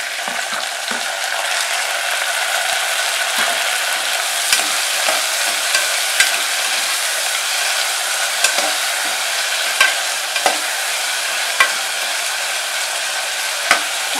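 Chopped tomatoes and onions sauté in hot oil for a potato-pea kurma, giving a steady, fairly loud sizzle with scattered clicks of a spatula against the pan; no talking.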